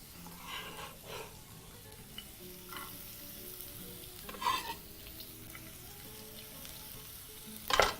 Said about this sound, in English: So we're going to proceed to add onions into the pan.